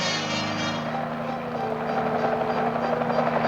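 Army helicopter circling overhead, a steady droning rotor and engine hum that holds at an even, moderately loud level throughout without a break.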